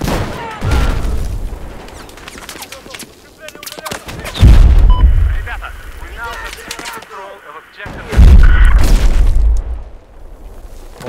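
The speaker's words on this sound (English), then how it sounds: "he threw a grenade and the grenade bounced off the railing and ran right in front of him and he killed himself" In Battlefield 4, big booming blasts of grenade explosions erupt near and loud, two heavy bursts several seconds apart with rumbling tails, amid scattered gunfire and battle noise, with voices talking in the mix.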